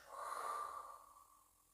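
A slow, soft breath is let out through the mouth during a sophrology relaxation exercise, a single airy exhale that swells and then fades away quietly.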